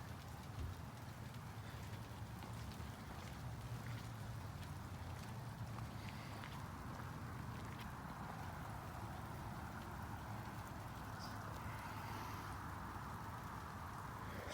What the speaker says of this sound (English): it's soft hailing again